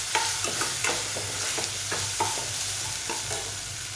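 Kitchen king masala being stirred into palak paneer frying in a pan, a continuous loud sizzle with repeated close scraping strokes of a spoon at an even rhythm and no talk.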